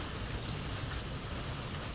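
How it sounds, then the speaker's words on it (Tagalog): Heavy rain pours steadily in a steady, dense hiss with soft drumming on a roof or surface, continuous and close, with no voices. "Grabe po kalakas dito ng ulan."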